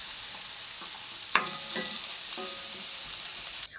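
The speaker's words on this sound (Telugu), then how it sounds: "ఇది కూడా కొంచెం కొంచెం ఫ్రై అవుతుందండి కొంచెం చిన్న ఫ్లేమ్లో పెడితే మంచిగా మంచి ఫ్రై అవుతుంది" Strips of ridge gourd peel fry in a pan over a low flame, giving a steady close sizzle with a few sharp clicks and stirring knocks. No voice is heard.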